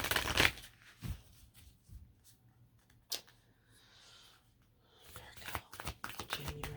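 A deck of tarot cards shuffled by hand in short, crisp riffling bursts, near and fairly quiet, with pauses and soft handling noises between, and faint background hum.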